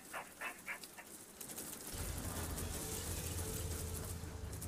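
Dogs in the strategy game C&C Rivals let out a few quick barks in the first second, then give way to a steady low in-game rumble.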